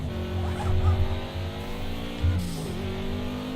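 Car in a racing video game with oversteer, its engine droning steadily at high revs while tyres squeal and skid in short bursts, close and continuous, with no talk.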